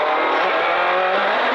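A rally car on the Mull Rally 2015 stage braking hard into a hairpin, its engine note loud and continuous at close range for a brief moment, with no talking.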